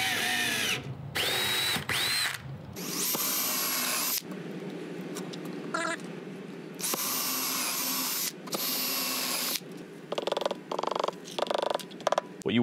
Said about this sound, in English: I'm gonna just drill it all the way in.